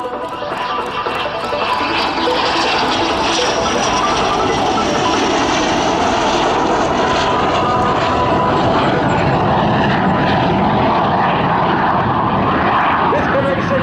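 Steady, loud jet roar as the F-86 Sabre "Hawk One", a Quebec-built RCAF 441 Squadron aircraft, flies past at the 2012 Hamilton Airshow, with an announcer speaking over it the whole time.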